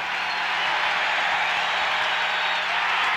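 A baseball stadium crowd roars steadily as a pitcher works toward a strikeout during a no-hitter, a broad sustained wash of cheering and clapping with no break.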